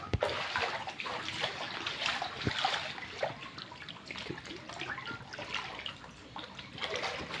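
Floodwater pours and trickles into a house past a blocked doorway, a steady close splashing rush of water that continues without pause and with no talking.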